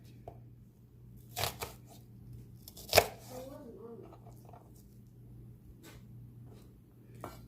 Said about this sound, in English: Well, I'm going to cut a little more.